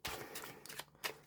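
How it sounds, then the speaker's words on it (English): A deck of playing cards being shuffled by hand, a short burst of papery riffling and slapping in a few quick bursts, close and fairly quiet. "good shuffle."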